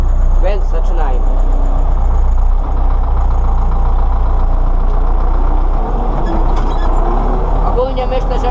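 An MTZ-82 tractor pulling a 2.7 m Strumyk disc harrow during field preparation: a loud, steady diesel engine drone, close, with rattling and occasional clanks.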